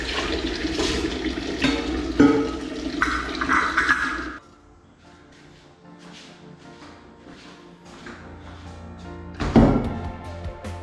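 A container being washed under running water, with a loud gush and splashing and a couple of thunks, then a quieter stretch of clinks before a final burst of splashing.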